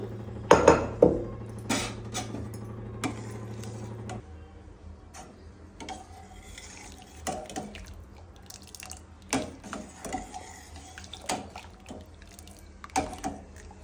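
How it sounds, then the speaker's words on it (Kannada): Water is poured into sambar cooking in a pot, with soft drips, ticks and light clinks of a metal pot and utensil scattered through the clip, close and fairly quiet, with no talk. "ಸ್ವಲ್ಪ ನೀರು ಹಾಕ್ತಾ ಇದ್ದೀನಿ"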